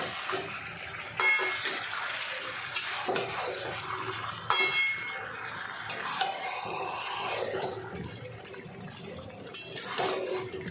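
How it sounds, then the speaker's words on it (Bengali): Yogurt being stirred into chicken kasha in a pan: soft, fairly faint scraping and clinking of a spoon against metal over a low sizzle, in uneven strokes with no talking. "দইটাকে আমি ভালো করে মিশিয়ে নিচ্ছি"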